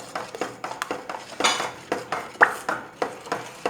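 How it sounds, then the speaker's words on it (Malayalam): A spoon stirs a pot of healthy payasam with cardamom and cloves added, giving a steady run of light clinks and scrapes against the metal at close range, with no voices. "നന്നായിട്ട് ഇളക്കുക"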